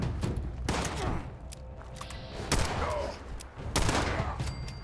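Gunfire rings out in Fallout 76, several loud sharp shots and short rapid bursts fired close by, separated by brief gaps with ringing tails.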